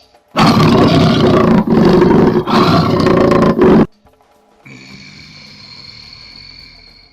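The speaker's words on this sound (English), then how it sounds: "Just that little momentary rumble, that just that seething that just gets right into you, and I know it's a jaguar" A deep, rumbling big-cat roar in several loud, rough bursts, then it stops abruptly, leaving a quieter background of insects and faint ambience.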